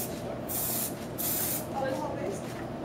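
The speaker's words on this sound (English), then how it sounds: "We're actually going to use our gold luster spray and just spray off to the side just to test it." Gold luster spray from an aerosol can bursts out in two loud hissing sprays, each about half a second long, tested off to one side, with quieter background noise between them.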